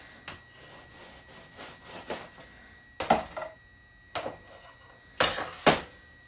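A cake leveler blade lowered by 1/8 inch shaves the top off a baked cake, giving several rough scraping strokes, with louder, sharper rasps in the second half of the short stretch.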